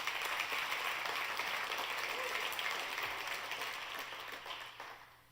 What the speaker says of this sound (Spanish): Dale ese aplauso a Dios si lo recibes.